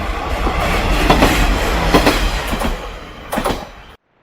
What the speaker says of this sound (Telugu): ట్రైన్ చూడండి